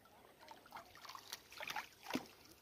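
Oars working a small wooden fishing boat on a Sundarbans river, soft irregular splashes and water swirls at close range, fairly quiet, with a louder stroke near the end and no talk.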